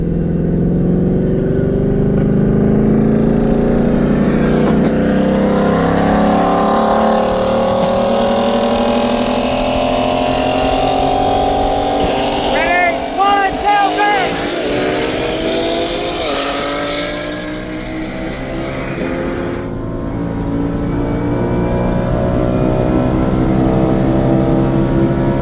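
Two bolt-on E85 cars, a 2022 BMW M3 Competition and a 2021 Shelby GT500, accelerate hard in a 60 mph roll race, loud sustained engine roar with rising pitch through gear changes, close and continuous throughout.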